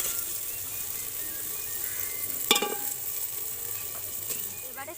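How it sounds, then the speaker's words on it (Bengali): Rice tipped into a pan of spiced vegetables frying with salt, turmeric and chilli powder for curry rice, giving a steady sizzle with one sharp clatter as it lands, then light stirring scrapes. "এবারে আমি চালটা দিয়ে দেব।"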